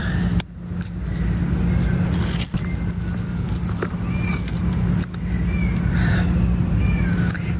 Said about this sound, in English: that little kitten in the neighbor's yard is breaking my heart. Crying.